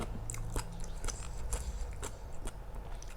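Steady crunchy chewing close up of Thai spicy salad with field snails and apple snails, with crisp bites breaking through a continuous low rumble, no talking.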